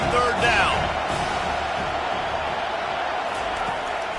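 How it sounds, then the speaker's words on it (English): Loud football crowd roaring and cheering in a stadium on third down, a continuous dense wall of noise with whoops rising early and holding steady throughout. "These fans are going absolutely nuts."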